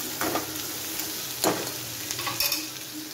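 Masala for egg masala fries in a pan with a bright, steady sizzle, broken by a few scraping stirs of a spoon close by, no voices.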